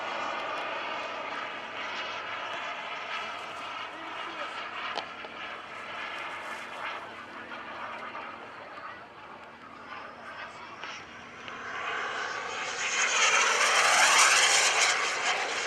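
A radio-controlled model airplane engine drones steadily in flight at an airshow, fading slightly mid-clip, then swelling louder and brighter near the end as the plane passes close.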